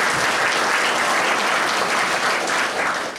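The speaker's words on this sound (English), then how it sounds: "One more round of applause." A large audience at an annual sport management conference gives a dense, loud round of applause that continues without a break and fades slightly at the very end.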